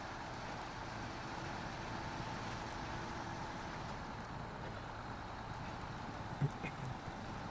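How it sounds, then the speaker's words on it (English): A heavy truck's turbocharged engine in the off-road driving game SnowRunner, a steady, dense drone with a brief knock near the end. "The turbo on that truck sounds good."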